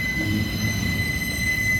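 Wheels of an intermodal freight train with an ET44AH locomotive mid-train squeal steadily on the rails, a sustained high-pitched screech over a continuous low rumble of rolling cars, close and loud.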